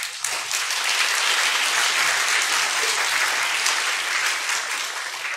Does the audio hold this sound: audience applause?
yes